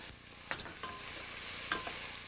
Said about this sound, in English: So we stir it like this.